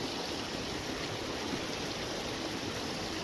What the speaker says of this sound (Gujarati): ખેતરોમાં પાણી વહેતા થયા છે